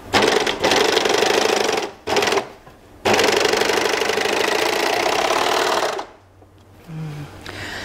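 Sewing machine stitching the side seams of drawstring pants, loud close bursts of rapid mechanical chatter in several runs split by short pauses, with a brief quiet stretch near the end.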